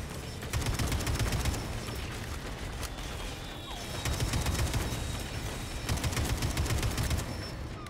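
Kalashnikov rifle gunfire in the video game Atomic Heart, several rapid automatic bursts in a row with short pauses between them, loud and close, with no talking.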